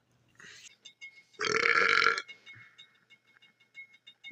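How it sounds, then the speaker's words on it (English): A long, loud, throaty belch rings out after some small sounds, with a few quieter noises trailing behind it. "Wait, you can fucking burp in that thing?"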